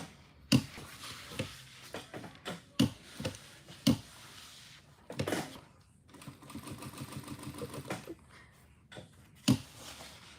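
Sewing machine in a home sewing room, running in short stitching bursts between sharp clicks and pauses, close and clear with no talking.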